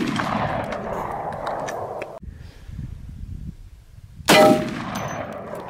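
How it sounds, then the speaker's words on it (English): A .458 SOCOM hollow point with a lead tip and an extreme penetrator round are fired into a homemade armor plate; after steady background noise, one sharp, loud shot cracks out with a ringing metallic impact. "First we're going to shoot the hollow point with the lead tip, followed by the extreme penetrator round in there."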